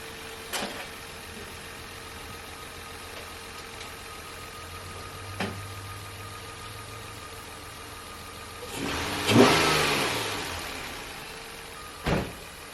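A Nissan Altima engine idles low and rough with a few faint knocks, then revs briefly in a short rising and falling burst before settling back, followed by a sharp clack.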